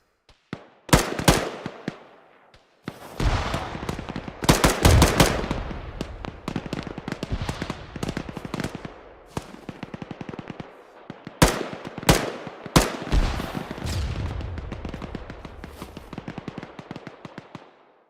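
Heavy gunfire in an Arma battle on the snowy Frostline map, with sharp shots and bursts cracking in clusters over about eighteen seconds, some very loud and close and others lighter and farther off, and no voices.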